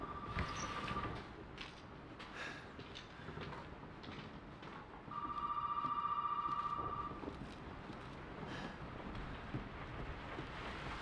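An electronic telephone ring in the video game Resident Evil 7 sounds in two bursts, a short one at the start and a longer, louder one midway, over a steady rain-like background hiss.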